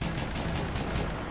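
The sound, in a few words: aircraft rotary cannon firing in a video game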